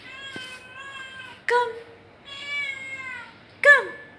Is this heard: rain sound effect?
no